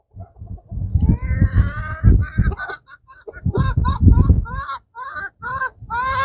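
Chickens in a backyard chicken yard give loud, close, repeated squawks and honking clucks in uneven bursts, with short pauses between calls.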